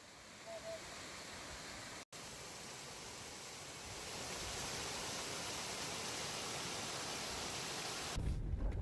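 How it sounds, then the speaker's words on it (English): A waterfall in the Smoky Mountains, found while overlanding, gives a steady, full roar of rushing water. It holds constant throughout, swells slightly louder partway through, and breaks off with one brief dropout. "it was getting late, but we found another waterfall"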